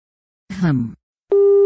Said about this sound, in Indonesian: Sambungan telepon pun terputus.